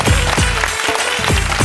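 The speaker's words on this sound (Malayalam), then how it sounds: "നല്ലൊരു കൈയടി കൊടുക്കണം അല്ലേ?" Audience clapping on a comedy stage show, a steady dense burst of applause filling the whole moment at close range, with faint musical tones underneath.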